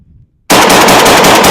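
A Panzer M4 semi-automatic shotgun fires, a sudden, very loud, saturated blast that bursts in after a half-second of near silence and stays overwhelming to the end.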